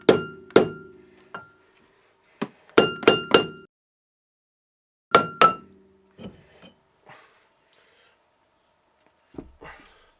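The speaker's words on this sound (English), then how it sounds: "if the disc doesn't want to come out, copper hammer. Gonna hit it with the leather side." A copper hammer's leather side strikes a brake disc during a Lotus Elan M100 front wheel bearing replacement: about nine sharp, ringing knocks in quick clusters, with a few faint clinks between them.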